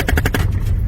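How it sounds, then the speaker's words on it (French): Gunfire near a village in Cameroon: a rapid burst of several loud, closely spaced shots in the first half, fading into a rumbling, noisy background with no talk. "Vous avez entendu les coups de feu."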